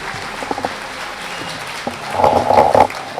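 Audience applause at a Georgia Faith & Freedom Coalition legislative event welcoming former Braves player Sid Bream, light at first then swelling into fuller clapping near the end, heard alone.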